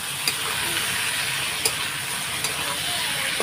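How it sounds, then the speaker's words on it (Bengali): Potatoes fried with salt and turmeric sizzle steadily in a pan, a constant close hiss broken by a few sharp clicks as they are stirred. "দিয়ে এখন আমি নাড়াচাড়া দিয়ে দেবো।"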